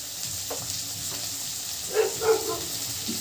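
Tomatoes frying in a pan for Uttarakhandi aloo thechwani give off a soft, steady sizzle, with a few brief clinks and scrapes of stirring near the end.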